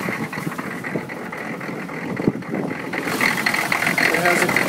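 Rough-running 1996 GMC 2500HD with a 6.5L turbo diesel, idling unevenly up close with a steady mechanical clatter that grows somewhat louder toward the end.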